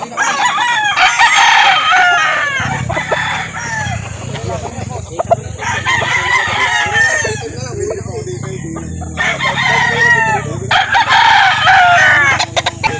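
Several loud rooster crows ring out close by, one after another, with hens clucking and a low hum running underneath, at a chicken market in Calauan.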